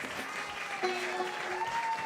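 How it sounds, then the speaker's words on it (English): An audience at a live bluegrass show applauds a banjo player, a soft, fairly distant patter of clapping heard under faint lingering instrument tones for a couple of seconds. "give Mr. Zach Hardesty over here a round of applause on the 5-string."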